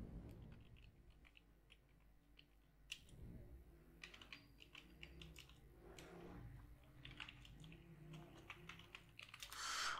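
Typing on a computer keyboard while entering text into WordPress: quiet, rapid irregular key clicks close to the microphone, with bursts and short pauses and a louder clatter at the end.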